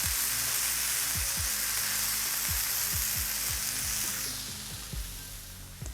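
A thick slab of onion sizzles on a hot Blackstone griddle, a steady loud frying hiss with repeated scraping taps of a spatula, easing off slightly near the end.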